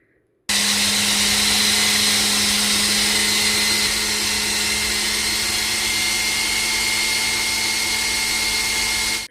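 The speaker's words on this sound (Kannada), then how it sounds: "ಈ ಮಿಕ್ಸಿ ಬಗ್ಗೆ ಕೂಡ ಕೇಳಿದ್ರಿ ನೀವು." A mixer grinder more than ten years old churns butter, starting abruptly into a loud, steady motor whine that holds unbroken for about nine seconds before cutting off.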